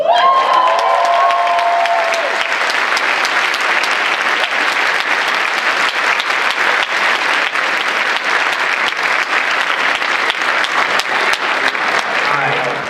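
Sustained applause from a large audience at a university student conference opening ceremony, a dense steady wash of clapping lasting throughout, with some cheering and crowd noise mixed in.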